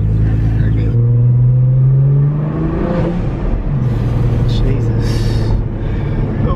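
A Nissan GTR on its owner's first solo drive: a steady engine drone that rises and shifts in pitch as it pulls, heard from inside the cabin under excited talking.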